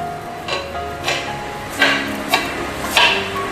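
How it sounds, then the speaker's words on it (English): A knife roughly chops peeled carrots on a cutting board, five or six close, uneven knocks spaced about half a second apart. "we're just going to roughly chop."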